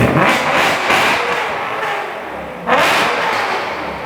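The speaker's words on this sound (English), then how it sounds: "Logic, give us a rev." A car's engine revs hard at a car meet, a loud broadband roar that swells, eases off, then surges again near the end, close by and without talk.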